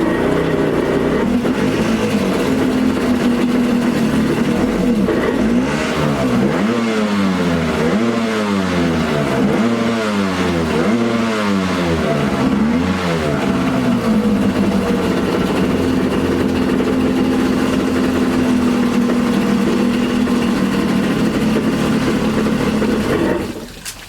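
Abandoned, cheap 1995 Yamaha WaveRunner jet ski engine running after a restart, loud and close, with a steady roar that rises and falls through a run of rhythmic revs in the middle before settling and cutting off at the end.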